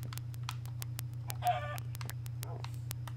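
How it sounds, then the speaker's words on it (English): Minecraft chickens cluck in short clustered calls over a steady low game hum, scattered among sharp repeated clicks and brief in-game noises, with no talk. "get me some chickens."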